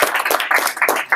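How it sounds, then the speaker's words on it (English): An audience at a blockchain developers meetup claps in a brief burst of applause, many hands together, close and loud, with no talk over it. "Let's give another round of applause for."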